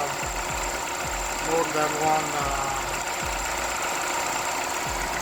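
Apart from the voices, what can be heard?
Skoda Fabia A/C condenser fan running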